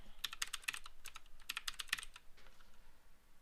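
A password is typed on a computer keyboard during a Linux install, with rapid close-up keystroke clicks in quick bursts and a short pause between runs, no voices.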